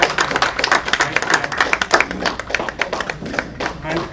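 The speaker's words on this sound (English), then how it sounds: "Please give a big round of applause." Audience at a community center announcement event applauding, dense continuous clapping from many hands with sporadic louder claps, fairly close and sustained throughout.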